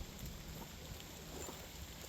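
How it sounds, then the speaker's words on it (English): Rain beginning to fall outdoors makes a steady, soft hiss that holds evenly throughout, faint and unbroken, with no voices. "Oh, rain started. Rain has just started."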